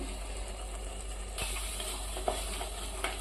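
Chicken biryani masala fries in a pan with a steady, soft sizzle, a scraping stir partway through and a couple of light clicks, alone with no voices.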